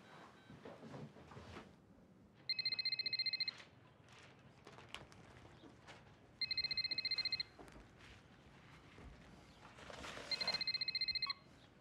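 A telephone rings in three separate bursts of electronic trilling, each about a second long and spaced a few seconds apart, over a quiet room with faint shuffling movement and no voices.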